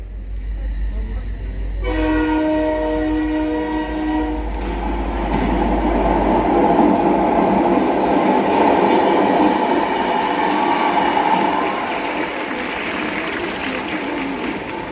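The Puri Howrah Express stands at a railway station: a long horn blast sounds, then a steady, heavy rumble of rail cars that slowly fades, with no clear talk.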